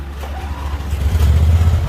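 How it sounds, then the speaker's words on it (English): A 2002 Dixon ZTR5017 Twin zero-turn riding mower engine starts up and settles into a loud, steady low rumble that grows slightly stronger toward the end, with no talk over it. "So we're going to start it back up for you."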